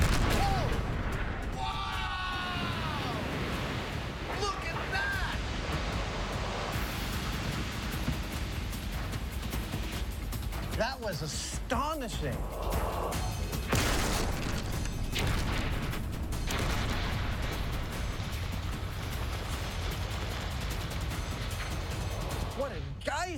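Underwater explosive charge detonating beneath a boat, blowing it out of the water into a geyser; loud broadband blast and crashing debris with lingering splashing rumble, under excited voices and talk.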